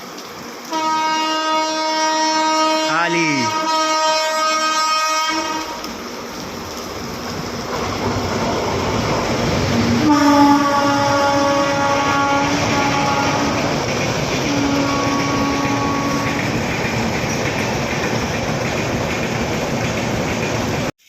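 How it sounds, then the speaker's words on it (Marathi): A train passing through a small Konkan Railway station without platforms, its horn blaring loudly in a long sustained blast, then rolling wagons rumbling close by with further horn tones, a steady heavy roar throughout. "दोन ट्रेनच्या मधून जाईल बघा आता इथे"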